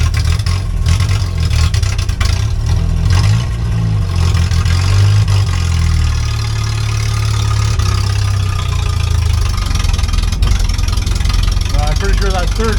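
A 1963 Hillman Super Minx engine pulls away uphill in gear, a steady low drone that holds loud and continuous throughout, with an occasional voice in the cabin.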